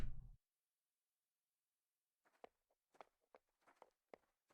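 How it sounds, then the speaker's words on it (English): Heavy footsteps outside in a forest, a series of faint, uneven thuds that start after a long silence and come at irregular intervals, sounding some distance away. "I heard heavy footsteps outside"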